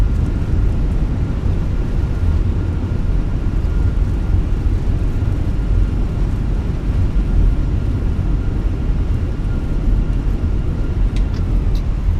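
An Airbus A321 in a flight simulator rolls out on landing with thrust reversers deployed, a loud, steady, broadband roar of rumbling engine and rushing air that holds throughout with no talk.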